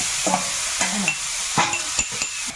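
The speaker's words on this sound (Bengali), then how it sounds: "চিংড়িটা এদিকে একদিকে ভেজে তুলে নেবো" Prawns fry in a pan with a continuous hot sizzle, broken by several sharp scrapes and clicks of a spatula stirring them, close and with nothing else over it.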